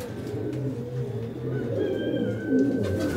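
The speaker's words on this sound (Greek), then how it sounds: "μόνο που τολμήσατε να εκθέσετε τα περιστέρια σας αυτή την εποχή" Pigeons at a pigeon show cooing in soft, low, repeated phrases, close and continuous, with faint background ambience and no talking.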